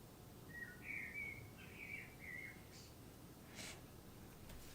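Blackbirds sing outdoors, a few faint chirping phrases in quick succession over a soft background hiss, fairly distant and with no talking.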